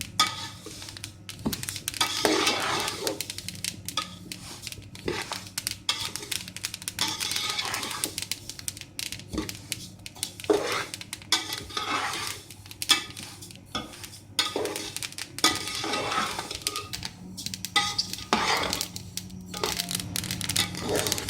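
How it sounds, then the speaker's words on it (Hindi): Continuous scraping and clinking of a spoon stirring roasting semolina in a metal pan, with a faint sizzle, uneven rhythmic strokes, close up. "अब देखिए इसमें से भुनने की आवाज़ आ रही है।"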